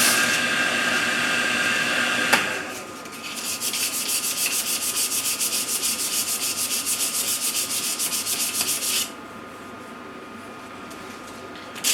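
Sandpaper rubbed against wood in a steady, continuous scratching rasp, close and fairly loud, with a brief pause and a shift to a lighter, thinner rubbing near the end; no talking.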